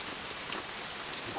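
Steady rain patters on a tarp at a forest camp during a wet overnight bushcraft stay, a dense, close hiss of drops with no voices.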